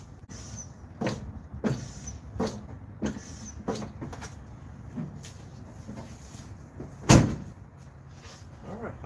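Brake pedal pumping on a 1981 Ford F150 pickup during brake line repair and bleeding: a steady series of about a dozen dull clunks and thumps, one louder knock near the end, in a quiet garage.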